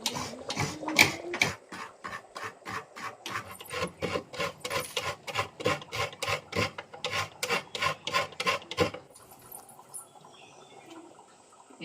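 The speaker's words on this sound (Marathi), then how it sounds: "इथे आता खोबरं किसून घेतलंय" Coconut is grated by hand in a village home kitchen, making fast, rhythmic rasping scrapes that repeat steadily for about nine seconds, close by, before stopping and leaving faint room noise.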